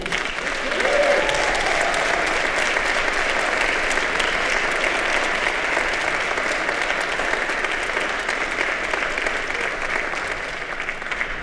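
Steady audience applause at an arts organization gathering, sustained and dense for the full length with no talk over it.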